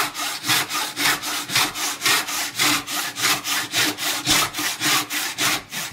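A hand saw cuts through wood in steady back-and-forth strokes, about three per second, each rasping pass rising and falling in loudness, close and alone with no voices.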